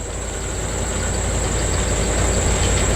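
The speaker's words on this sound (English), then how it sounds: "with the doghouse off, it's that much louder, so it seems like it's going that much higher RPMs." Ford Econoline Club Wagon van engine with the doghouse cover removed and a new three-speed transmission, a steady loud drone that swells slightly as the revs rise, with a high whine running through and no talk.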